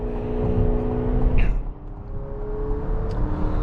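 A 2026 Chevy Traverse RS AWD accelerates in sport mode, its engine note rising steadily as a close, loud hum, with a brief dip as the transmission shifts before the drone builds again.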